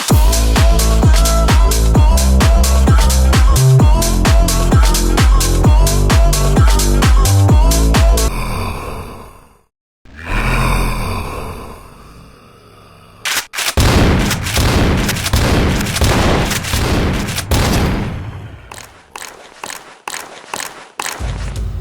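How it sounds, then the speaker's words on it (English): Shotgun blasts in a slow, tactical DOOM survival-horror mod, heavy rhythmic booms in a fast regular series, then a near-silent gap, then more shots and reloading clatter, loud and close. "the best feature of this mod so far is the shotguns"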